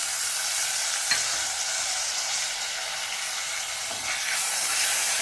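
Tomatoes frying in a pan for vermicelli upma, a steady close sizzle and hiss with a couple of brief stirring clicks, no voices.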